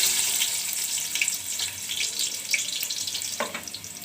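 Sliced onions hit hot oil and fry with a steady, bright sizzling hiss, close and fairly loud, with a few stirring clinks and no talking.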